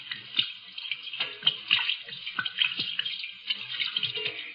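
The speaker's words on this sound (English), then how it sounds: "Hate to waste this good gin washing my hands" Liquid, gin, is poured and splashed over hands to wash them, a close, irregular patter of trickles and small splashes in a radio drama scene.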